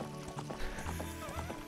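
Epona, the horse in Zelda: Ocarina of Time, rearing up on two legs with a short whinny and a few hoof clops, brief and moderately loud, with the game's background music faintly underneath.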